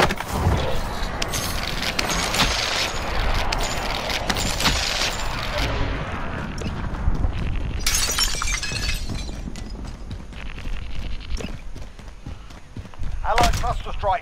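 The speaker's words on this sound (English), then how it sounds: "Allied cluster strike inbound." Allied cluster strike bombs from the video game Modern Warfare bursting in a dense, continuous barrage of loud crackling explosions and shattering debris, with a game voice announcing the strike over the blasts.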